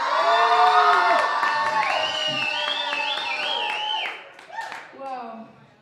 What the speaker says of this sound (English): That is the adoring crowd noise that I'm hearing.